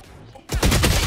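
In the shooter game Valorant, a quiet lull suddenly gives way to a loud burst of rapid automatic gunfire that runs to the end of the short clip.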